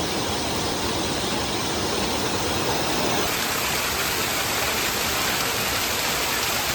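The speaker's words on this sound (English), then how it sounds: "There is indeed a water crossing." A river runs across a hiking trail water crossing in a rocky riverbed near a volcano, giving a steady, broadband wash of flowing water that stays even and continuous, moderately loud and close, with no voices.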